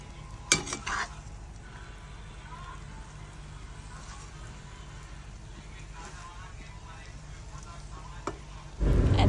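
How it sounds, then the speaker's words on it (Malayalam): A chapati cheese mix is stirred in a pan over low gas, with a few utensil scrapes and knocks at the start over a soft, steady sizzle and a louder clatter at the end. "നന്നായിട്ട് ചെറിയൊരു ഗ്യാസ് കുറച്ചിട്ട് ചെറിയൊരു ചൂടിൽ നമ്മളത് നന്നായിട്ട് മിക്സ് ചെയ്ത് വെക്കുക"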